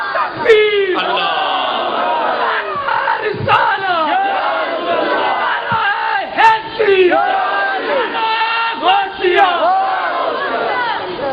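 A large crowd at a Ramadan religious gathering in Karachi roars chanted slogans in unison, with repeated loud bellowed calls and responses rising and falling over about eleven seconds, close and dominant.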